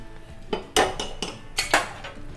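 Asafoetida is stirred into hot oil in a pan, giving a series of five or six close metallic spoon scrapes and clinks against the pan. No one speaks.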